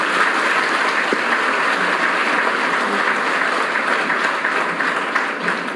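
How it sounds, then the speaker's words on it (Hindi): An audience at a motivational talk applauds steadily, a dense, continuous wash of clapping lasting several seconds without a break. "तो पहले एक बार ताली बजा दो।"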